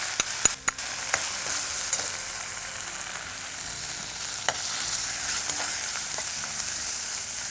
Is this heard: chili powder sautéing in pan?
yes